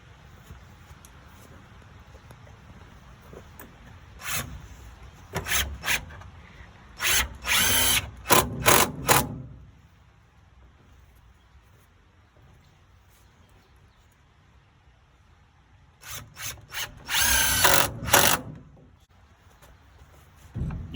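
A power drill drives screws into an aluminum outboard motor mount on a DIY boat build, with two clusters of short, loud whirring bursts separated by quiet pauses, close by and with no talking.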